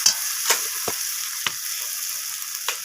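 Onion, tomato and ground spices including cumin fry in a pan with a steady, close sizzle, broken by a few sharp scrapes and clinks of a stirring utensil; no talking.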